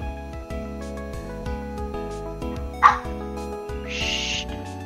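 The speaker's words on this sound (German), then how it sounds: "Was denn, dein Hund stimmt mir zu." A dog gives a short yip or bark over a repetitive game soundtrack with tinkling music and electronic effects, brief and fairly close.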